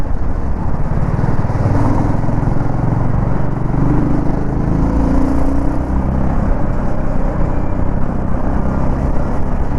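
A BSA Gold Star 650 motorcycle on the move, giving a loud, continuous low engine rumble blended with rushing wind noise that holds steady from start to finish.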